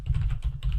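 Typing on a computer keyboard while filling in a Microsoft Lists form gives a quick, close run of three or four distinct key clicks.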